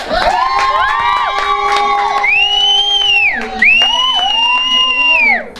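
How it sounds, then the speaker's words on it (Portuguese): A loud crowd cheers and shouts continuously, with high sustained whoops and voices rising over one another; clapping is not distinct. "Salva de palmas, gente."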